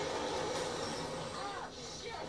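A train moves through an action scene in the 2019 film Bad Boys for Life, a continuous loud rumble with rail noise and faint squeals, heard under speech.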